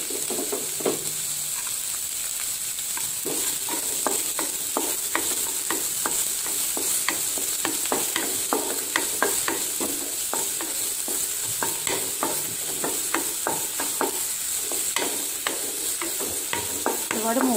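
Chopped onion sautés in a pan for vegetable soup, a steady close sizzle with frequent scraping stir strokes running throughout, no voices.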